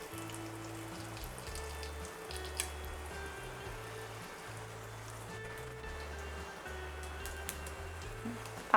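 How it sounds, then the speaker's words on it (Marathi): Mustard seeds and cumin sizzle in hot oil for a tempering, a soft continuous fizz with faint crackles over a low steady hum. "मोहरी टाकली, थोडंसं जिरं टाकलं"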